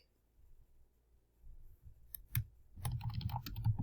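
Someone types on a computer keyboard, sparse soft clicks at first, then a quicker close burst of keystrokes toward the end.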